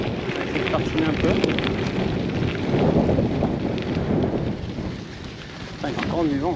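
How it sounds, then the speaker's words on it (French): Steady wind roars and buffets the microphone during a 300 km gravel bike ride outdoors, a continuous loud rumble with no speech. "il y a encore du vent"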